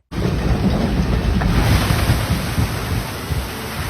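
Water on a steep log flume ride at Nagashima roars in a loud, continuous rushing wash of splash and spray, with heavy wind buffeting the microphone throughout.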